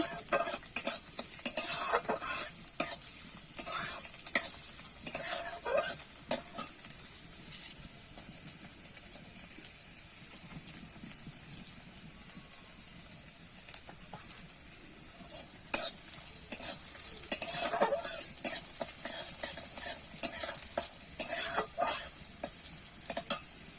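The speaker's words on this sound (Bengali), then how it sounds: "দিয়ে দেবো রসুন কুচি একটু আমি নাড়িয়ে চাড়িয়ে ভেজে নেব" Chopped garlic frying in a pan for tomato paratha, with a continuous crisp sizzle and hiss punctuated by scraping, clinking stirs that come in clusters, then a quieter spell of gentle sizzling.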